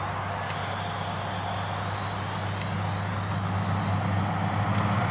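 A Freewing Mirage 2000 RC jet flies overhead with a steady, loud electric ducted-fan whine and a rising whistle tone, heard alone without any talk.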